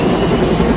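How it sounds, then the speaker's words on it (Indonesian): A United States combat helicopter from the 1997 film Con Air gives a loud, steady rotor and engine roar with a dense, continuous drone, heard alone. "Mereka malah ingin menembak pesawat ini dengan helikopter tempur Amerika Serikat."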